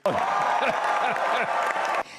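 Loud, dense applause fills the Christian Democratic Union election headquarters as preliminary results come in, with a narrator's voice speaking over the clapping throughout.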